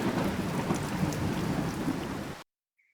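Steady rain with a low rumbling of thunder in a virtual reality environment, a dense continuous wash that cuts off abruptly into silence after a couple of seconds.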